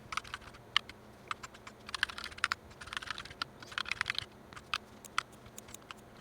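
Keys clack on a GMMK 60% mechanical keyboard, a run of crisp, irregular taps with a few fast bursts of typing, close up and alone.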